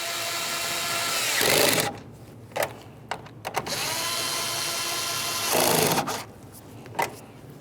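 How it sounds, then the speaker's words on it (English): Two 8mm headed mounting nuts being snugged onto a rear bumper bracket in the trunk of a 2012-2018 Nissan Altima, heard as sustained whirring bursts of a power driver broken by short gaps and brief clicks, close and fairly loud. "Start on each of your 2 8mm headed mounting nuts, snug them up."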